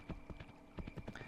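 Horse named Jacob with a white blonde mane trotting in the video game Kingdom New Lands, a quick run of close, rhythmic clip-clop hoofbeats over a steady electronic hum.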